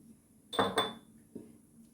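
A spoon clinks against a bowl while dry yeast, sugar and salt are stirred into flour. Two quick metallic taps come close together, then a fainter one follows, all quiet and close.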